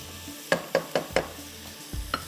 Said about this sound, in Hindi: ऐसा आपने इसको थोड़ा सा फ्राई करना है इस तरह से